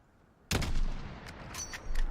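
One sharp rifle shot in Modern Warfare 2019 cracks out abruptly from near silence, followed by a rolling echo and a few faint mechanical clicks.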